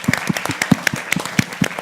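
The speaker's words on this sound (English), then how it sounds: "let's give him a round of applause back" An audience claps for a guest joining a business panel, a short burst of scattered, fairly close hand claps.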